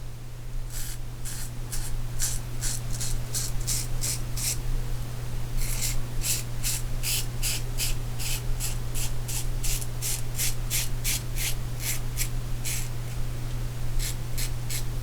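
An adjustable safety razor scrapes across the chin in rapid, rhythmic strokes, crisp and close, over a steady low electrical hum, with a brief pause partway through.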